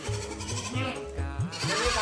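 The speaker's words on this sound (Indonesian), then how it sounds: "Ini kambing di peternakan kami ini usia 8 bulan, tingginya sudah 90 cm." An eight-month-old Peranakan Etawa goat on a farm bleats several times in loud, wavering calls close by, with someone speaking between them.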